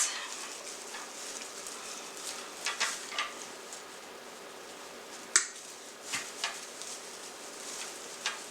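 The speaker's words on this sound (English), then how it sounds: "My trusty wire cutters." Wire cutters snip at a Christmas front door swag: a few sharp, quiet clicks spaced irregularly over low background room noise, with no talking.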